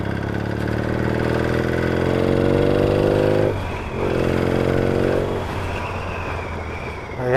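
A Yamaha XS650 chopper with a tapping engine noise, running on a ride: a loud, close, steady mid-pitched engine drone that rises with revs, dips briefly between gears, then settles into a lower rumble.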